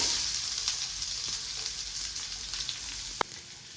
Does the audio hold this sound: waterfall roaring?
no